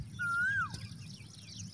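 A koel (cuckoo) calls once in a forest, a single clear rising whistled note followed by a falling slur, heard over faint background hum and distant bird chatter.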